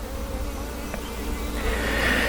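Honeybees buzz around an open hive in a steady, close, dense drone that holds throughout, with no talking.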